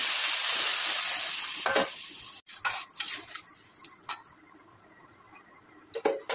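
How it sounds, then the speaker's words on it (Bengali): Fish curry cooking in a pan after warm water goes in, opening with a loud hiss and sizzle that fades, followed by scattered scraping and clinking of a spoon stirring, close by. "ভালো করে নাড়াচাড়া করে নেব। উষ্ণ গরম জল দিয়ে দিলাম।"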